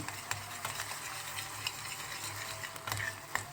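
Tomato paste being stirred and fried in a pan gives a quiet, steady sizzle broken by soft scrapes and taps of the spoon, with no talking.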